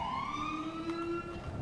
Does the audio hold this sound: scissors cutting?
no